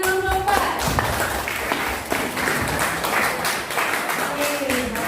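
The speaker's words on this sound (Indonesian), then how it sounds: "Oke, tepuk tangan buat kelompok 4." A classroom of students claps for a student group after its presentation on preserved foods, a brief burst of clapping mixed with taps, thuds and overlapping chatter and voices.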